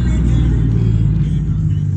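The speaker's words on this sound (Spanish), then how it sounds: "ahí viene un carro recio" A fast car passes by on a road, a loud, steady low engine rumble filling the whole moment close to the listener, with no talk.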